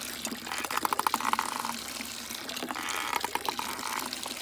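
Water gushing from a freshly primed hand pump into a bucket on a trail in a swamp area, with uneven, pulsing splashes that rise and fall as the handle is worked, fairly close and steady.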